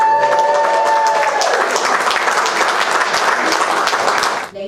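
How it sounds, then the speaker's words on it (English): Wedding guests break into loud applause and cheering as music fades out at the start, a dense, close crowd clapping steadily before dropping off abruptly at the end. "Give a huge round of applause."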